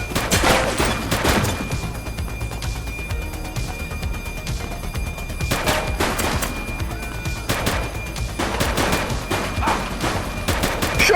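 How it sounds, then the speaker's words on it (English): Rapid volleys of gunshots crack out in clustered bursts in The Precinct police game, loud and sharp with short gaps between exchanges, over a low background rumble. "Shots fired!"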